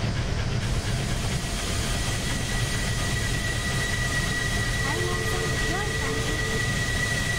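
A Union Pacific FEF-3 844 steam locomotive with an SD70ACe diesel helper at the rear climbs a grade in a train simulator game, giving a steady loud hiss and rumble with a faint rising tone midway.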